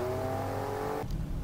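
A 510 hp Alfa Romeo Stelvio Quadrifoglio with an eight-speed automatic gearbox accelerates hard, its engine a loud, steady droning tone that cuts off abruptly near the end.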